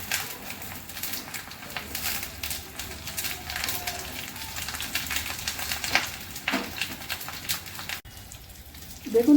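Eggplant slices coated in rice flour fry in mustard oil in a pan, giving a steady crackling sizzle with scattered pops, with a brief louder clatter near the end.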